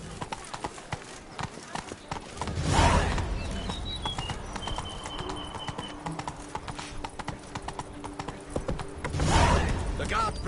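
Roach, a horse in the Witcher 3 video game, trots with steady clip-clop hoofbeats throughout, with two louder swells where the game's music or ambience rises and faint voices in the background.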